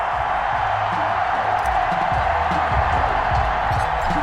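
A home stadium crowd in a Madden NFL 21 football game for the Miami Dolphins against the Seattle Seahawks roars steadily with broad cheering and whoops, with faint commentary beneath.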